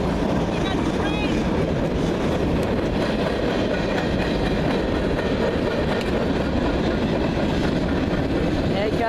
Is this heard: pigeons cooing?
no